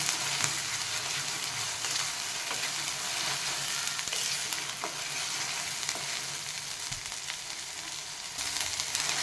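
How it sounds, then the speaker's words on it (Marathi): Masala fries in oil for a rustic Karjat-Rashin style shipi amti, a spicy curry. A constant, close sizzle runs throughout with faint stirring scrapes, and no one talks. "तेल सुटेपर्यंत चांगला परतून घ्यायचं जेवढा तुम्ही मसाला चांगला परतताना तेवढी आपली आमची टेस्टी होती"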